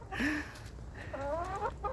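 Backyard chickens cluck nearby in a couple of short, rising vocal bursts over a quiet background.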